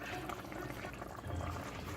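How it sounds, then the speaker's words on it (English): Water poured into a pot of Haitian vegetable beef stew, a steady close gushing and bubbling pour lasting about two seconds, with no talk. "let's go on and add the rest of the water to it"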